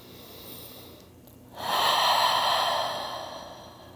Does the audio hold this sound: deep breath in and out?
yes